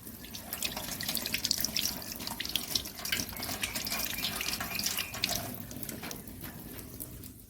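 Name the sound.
washing hands under a running water tap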